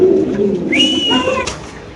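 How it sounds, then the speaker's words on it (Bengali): Pigeons at a pigeon seller's coop give a single drawn-out coo lasting under a second, heard close over a low murmur of background noise. "এই সব কবুতর ভাই"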